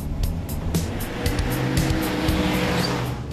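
An Austin Healey roadster's engine roars steadily at close range, revving and pulling hard as the vintage car drives along.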